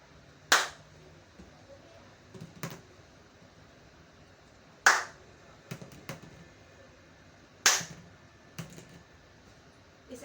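Hand clapping during a sound detection activity in a hearing aid session, heard as sharp single claps spaced a few seconds apart in a quiet room with faint softer knocks between them.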